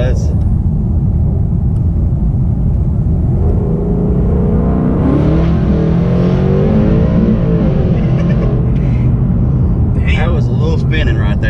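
A newly tuned car launches hard with its wheels spinning, a loud, close engine roar and rumble that rises in pitch, with people talking over it throughout.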